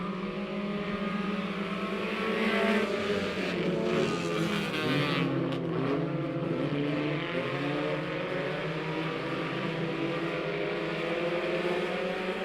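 Race cars at Lebanon Midway Speedway under a green flag, with several engines roaring together in a dense, steady drone that rises and shifts in pitch as the pack accelerates out of the turn.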